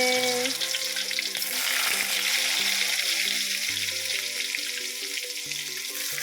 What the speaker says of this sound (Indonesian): menggoreng tempe.